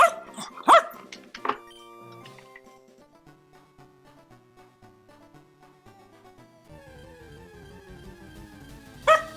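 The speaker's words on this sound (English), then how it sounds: "I can literally hear you barking downstairs" A dog barks a few times near the start, sharp yips over a steady backdrop of music, then one more bark at the very end.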